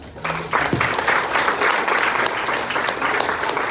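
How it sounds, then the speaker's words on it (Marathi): Applause from an audience at a thank-you event, a broad steady wash of many hands clapping that starts suddenly and keeps going evenly, with a brief voice at the very start. "सो जोरदार टाळ्या एकदा सगळ्या"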